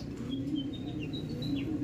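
A white-tailed bird gives thin, high chirps and short whistled notes over a steady low hum of background noise, moderately near and fairly faint.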